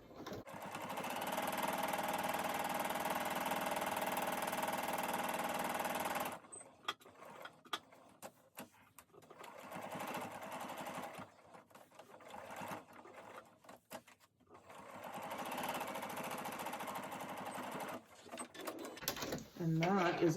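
A sewing machine runs steady top stitching around a fabric travel cup cozy, with a long continuous burst, a pause to turn the corner with a few clicks and handling, then another long stretch of stitching.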